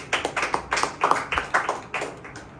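A church congregation claps in steady rhythm to glorify the Lord, sharp claps landing about twice a second at moderate volume, regular and unbroken.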